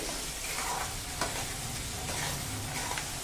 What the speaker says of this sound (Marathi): आणि दाणे आणि कांदा व्यवस्थित परतून घ्यायचा आहे